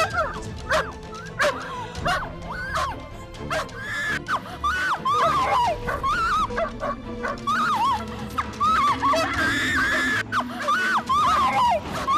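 Several dogs bark, yip and whimper near the listener, a busy overlapping chorus of sharp barks running steadily for the whole stretch in a tense domestic scene.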